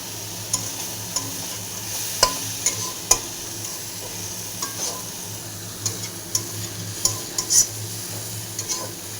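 Bombay duck fish fries in oil with a continuous soft sizzle, broken by frequent sharp clinks and scrapes of a utensil stirring against the pan, close by and with no talking.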